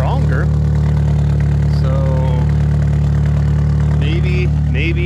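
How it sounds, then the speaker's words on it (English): A Ford 2.3L SOHC Twin Spark engine with a coil pack mod idles a little roughly, its strong, steady exhaust pulses forming a loud low throb throughout while someone talks over it. "it was idling a little funky, but it definitely, so the exhaust pulses are definitely a lot stronger"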